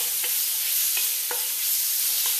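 Thinly sliced beef stir-frying over high heat with garlic, ginger and five-spice for a spicy noodle dish: a loud, steady hiss of sizzling, broken by a few brief scraping stirs, close up with no talking.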